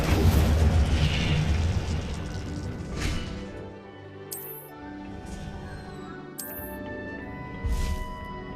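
Incendio fire spell cast in Hogwarts Legacy, a roaring whoosh of flame opening loud and broad, followed by sharper magical bursts and crackles that fade amid quieter game effects.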